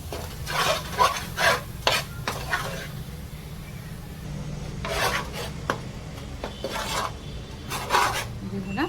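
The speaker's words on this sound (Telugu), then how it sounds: "కారం ఉప్పు వేగిపోయింది" Chili powder and salt fry in oil for fish curry while a spoon scrapes and stirs the pan in repeated rasping strokes, close and fairly loud over a low sizzle.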